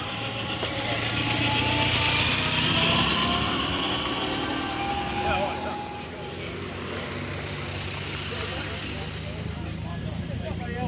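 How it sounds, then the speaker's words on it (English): A classic Porsche 911S pulls away at a country-pub car meet, its engine rumble rising then fading into the distance, heard under steady outdoor chatter from people nearby. "That is a Porsche 911S."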